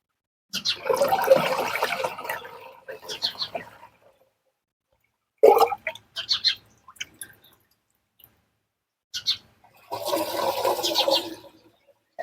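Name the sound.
liquid cow-based preparation being poured into a spray mixture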